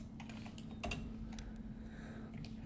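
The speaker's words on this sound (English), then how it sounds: "I cannot type today." Typing on a computer keyboard while coding, with sparse, faint key taps and one sharper clack over a low steady hum.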